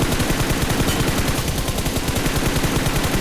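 Continuous rapid gunfire in PUBG on the Erangel map, a dense, steady stream of shots filling the whole moment with no pauses.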